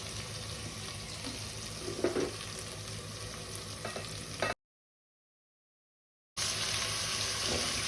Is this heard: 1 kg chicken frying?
yes